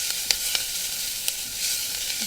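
Onions frying on a 15,000 BTU stove, a steady close hiss and sizzle with a few sharp pops scattered through.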